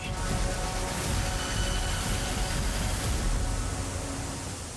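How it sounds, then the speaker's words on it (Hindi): A constant broadband rush of a mountain waterfall in misty high terrain on the trek toward Swargarohini, an even, unbroken roar heard from some distance with no voices. "मुझे आवाज सुनाई पड़ रही है, और ये किसी वाटरफॉल की आवाज है।"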